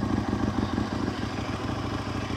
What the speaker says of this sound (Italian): Allora, la moto si accende.